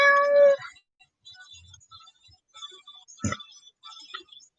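A single cat meows once near the start, followed by quiet rustling and a brief thump.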